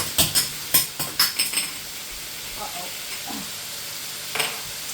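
Onions and vegetables stir-fried in oil for a chicken and vegetable stir-fry, a run of quick spatula clanks against the pan, then a steady low sizzle with a later clatter, close by.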